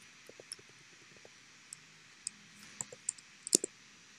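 Sparse, faint clicks of typing on a computer keyboard in a quiet room, a few scattered taps early and a quicker cluster of sharper keystrokes near the end.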